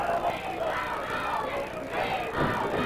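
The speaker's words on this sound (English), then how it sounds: "You can hear the crowd now as they pick up the chant" A wrestling arena crowd from 1984 Georgia Championship Wrestling rises in a sustained, rhythmic chant, a broad roar of many voices heard from ringside.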